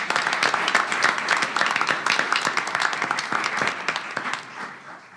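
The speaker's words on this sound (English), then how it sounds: "So I think they all deserve a round of applause for putting Illinois State on the map of Illinois" An audience at a university board of trustees meeting breaks into applause, many hands clapping briskly and close, then thinning out and fading over about five seconds.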